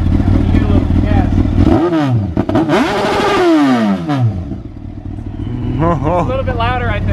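Motorcycle engine idling near, then revved hard in several sharp rising and falling bursts, followed by quieter blips while people talk over it.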